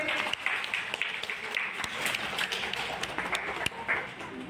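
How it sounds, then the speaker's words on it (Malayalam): Scattered applause and clapping from children and adults for a prize winner at a school colouring competition, uneven claps rising and falling in a room. "കൈയടി കൊടുത്തേ"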